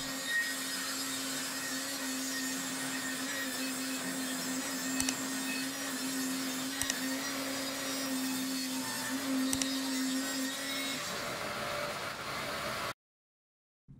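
A circular saw on a guide track runs a long continuous cut through a board, a steady whining drone lasting about thirteen seconds before it abruptly stops, with faint knocks along the way.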